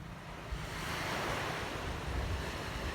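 Ocean waves at Dahican Beach, Mati City, give a steady broadband rush of surf with wind buffeting the microphone, loud and continuous with no voices.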